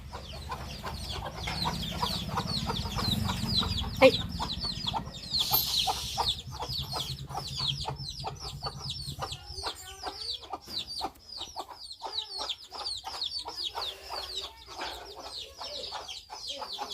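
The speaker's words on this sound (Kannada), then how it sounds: "ಇದೆಲ್ಲ ನಮ್ಮದೇ ಕೋಳಿ" Chickens at a village house cluck repeatedly in quick, close bursts, with a low rumble of background noise early on and one sharp squawk partway through.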